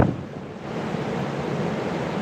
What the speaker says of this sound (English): those are huge waves.